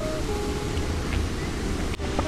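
Ocean waves wash continuously onto the shore at Kuta beach, a steady, close rush of surf mixed with wind buffeting, with one brief dip near the end.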